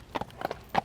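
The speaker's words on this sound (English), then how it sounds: "the emperor appeared riding on a fine white horse" Hooves of a white horse in an emperor's procession clip-clop in a few quick, light paired beats, close and clear against a quiet background.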